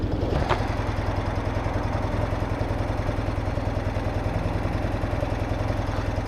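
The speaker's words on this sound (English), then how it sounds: "now you can see the bike on its idle" A BMW R80/7 motorcycle engine idles steadily nearby, a low, even pulsing throb with a faint mechanical clatter running unchanged throughout.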